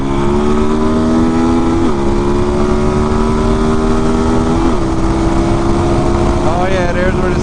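A 650 cc motorcycle, ridden beside a DRZ400, accelerates with a loud, steady engine drone that rises in pitch between gear shifts, heard up close over heavy wind noise.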